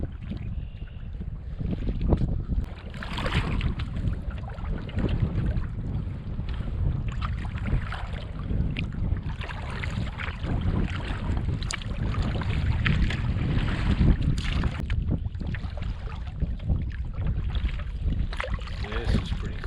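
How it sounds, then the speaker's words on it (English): Paddle strokes from a Hornbeck canoe moving along a river through old forest, a steady soft wash of water and splashing with wind noise across the microphone, continuous and fairly close. "Paddling through an old forest."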